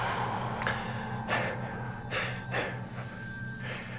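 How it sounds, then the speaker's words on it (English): A deep inhalation and exhalation during a hypnotherapy session, several soft breathy bursts standing alone over a steady low background hum, close and fairly quiet. "Take a deep breath now."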